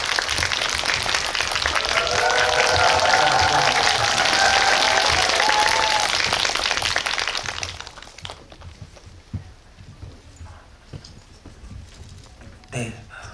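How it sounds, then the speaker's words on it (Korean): A cinema audience at a Whiplash talk event at Megabox COEX Dolby Cinema gives loud, sustained applause as actor Lee Jae-hoon enters. Cheers mix into the clapping, which fades out after about seven seconds into quiet room noise with scattered rustles. "이재훈 배우님 입장할 때 큰 박수로 부탁드리겠습니다."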